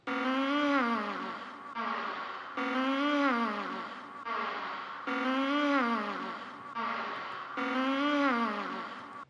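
A short vocal phrase repeated in a steady loop, each pass a sliding, moaning sung tone cut off abruptly before the next repetition.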